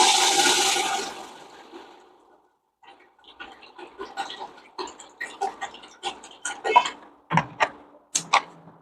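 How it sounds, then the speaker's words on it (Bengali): Water gushes into a pot of potatoes being readied to boil for biryani, a rushing pour lasting about two seconds, followed by quiet and then a series of sharp clicks and taps nearby. "তো এবার আমি এর মধ্যে জল ঢেলে দেবো"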